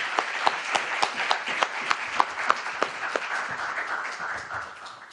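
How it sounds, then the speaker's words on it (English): An audience at a U.S.-Japan relations luncheon discussion applauds Professor Shinyo, a dense, sustained round of clapping with a few sharp individual claps standing out, fading slightly toward the end. "please join me for applause for Professor Shinyo"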